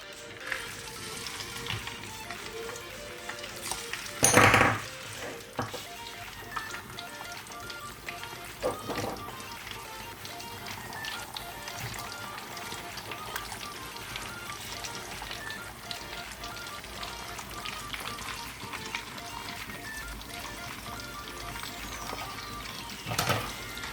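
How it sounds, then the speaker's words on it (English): Fish frying in groundnut oil crackles and sizzles steadily and softly throughout, with a few louder sputtering bursts, including a sharp one early on. "my groundnut oil to fry my fish"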